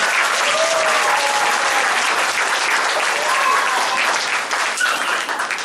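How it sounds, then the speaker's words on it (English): An audience in a school concert hall gives a full, sustained round of applause for a school orchestra, dense clapping that stays steady and close throughout with a few faint calls from the crowd. "Please put your hands together for the experienced orchestra."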